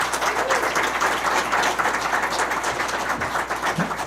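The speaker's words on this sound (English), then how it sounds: "Big round of applause for all of our county employees" Steady applause from a crowd at a county commissioners' board meeting, a dense wash of clapping that holds evenly throughout without voices.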